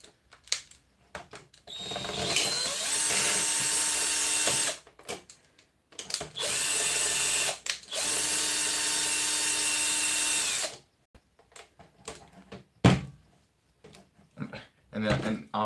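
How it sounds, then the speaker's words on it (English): A power drill runs up close in several bursts, whining and grinding through plastic, separated by pauses with clicks and handling noise. "I'm just gonna fucking drill through it."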